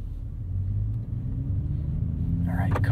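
A 2023 Toyota Supra with a 6-speed manual rolls over a covered bridge in West Virginia, giving a low steady rumble of engine and tyres with a brief rattle near the end.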